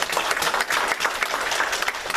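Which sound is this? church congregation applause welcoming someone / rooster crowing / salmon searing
church congregation applause welcoming someone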